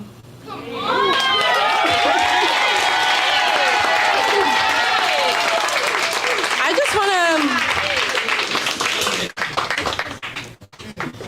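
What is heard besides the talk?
audience applause at live poetry event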